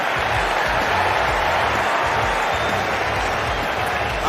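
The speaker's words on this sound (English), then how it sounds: "And you hear the crowd go wild." A wrestling crowd roars and cheers wildly around the ring, a dense, loud, continuous wall of noise with applause mixed in and no letup.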